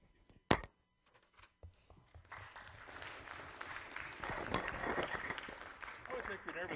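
Audience applause at a science lecture builds after a few scattered claps into steady, moderately loud clapping that continues to the end.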